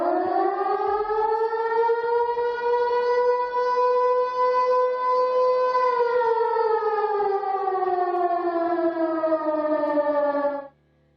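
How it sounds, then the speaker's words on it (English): A loud, continuous siren wail that holds steady, slowly falls in pitch, then cuts off abruptly at the end. "we're going to keep the sirens going"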